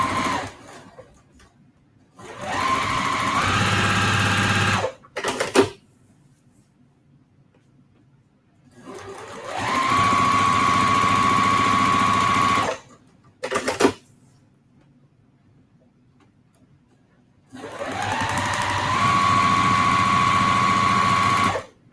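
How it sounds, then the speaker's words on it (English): Sewing machine running at a short stitch length, sewing dashed lines across a quilt block: three long bursts of steady whirring stitching separated by pauses, with brief clicks between runs. "I'm going to go over to the machine, shorten my stitch length to 1, and then I'm going to stitch on all of the dashed lines"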